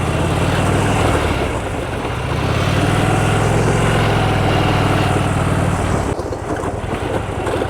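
A tractor engine runs steadily at a makeshift settlement by the sea in Northern Cyprus, a loud, close, continuous low drone that holds through the clip and shifts slightly near the end.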